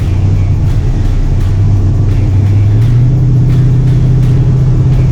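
A Ford Mustang on a race track, its engine droning loud and steady as it accelerates, with a rising low rumble throughout and no voices.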